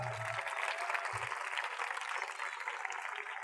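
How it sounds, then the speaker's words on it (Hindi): A revival-meeting congregation applauds for Jesus in a steady, dense wash of clapping that holds at the same level from start to finish and fills the hall. "यीशु के लिए जोरदार तालियां"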